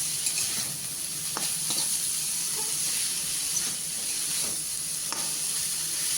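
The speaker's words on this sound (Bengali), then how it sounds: "শাকগুলো ভাজা আমার প্রায় হয়ে গেছে" Data shak stem greens sizzling in a hot pan, a steady even hiss with occasional soft stirring scrapes and no talk.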